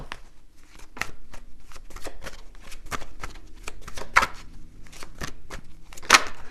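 Tarot cards are shuffled by hand, producing a steady run of crisp riffling flicks and soft slaps with a couple of sharper snaps, close and clear without speech.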